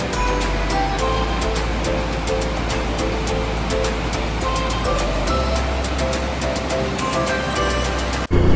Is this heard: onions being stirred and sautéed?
no